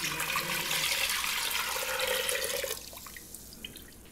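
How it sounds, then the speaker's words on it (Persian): Water pours steadily into a pot with a broad splashing rush for about two and a half seconds, then stops, leaving faint drips and quiet clinks. "حالا آب رو توی قابلمه می‌ریزم."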